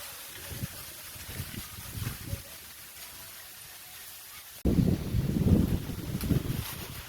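Strong wind buffets the microphone in rough, low gusts, growing louder and heavier in the second half.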